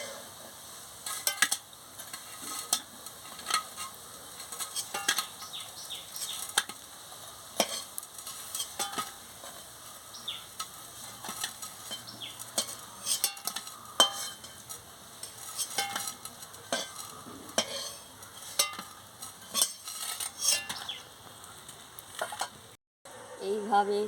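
Drumstick flower fritters coated in gram flour frying in hot oil, a faint steady sizzle broken by frequent clinks and scrapes of a utensil stirring and lifting them from the pan.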